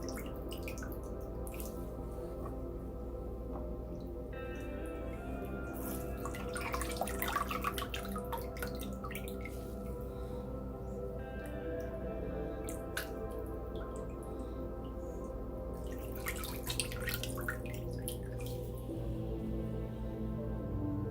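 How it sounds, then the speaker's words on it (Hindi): Soaked moong dal dahi vade are pressed gently by hand, so water squishes out and drips steadily in close, soft wet bursts over a continuous tonal background. "हल्के हाथों से प्रेस करके पानी इसका निकाल देंगे।"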